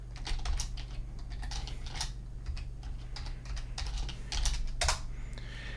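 Fingers tapping out a password on a computer keyboard, a quick, close, irregular patter of key clicks over a low steady hum.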